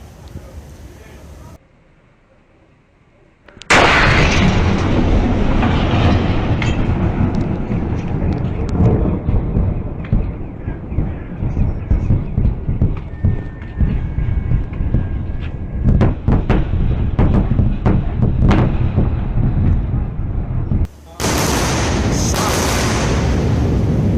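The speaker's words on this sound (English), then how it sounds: "Double sonic booms." Deep rumbling double sonic booms from two landing rocket boosters roll in loudly after a quiet start, followed by a long thunder-like rumble and crackle, with voices faintly underneath.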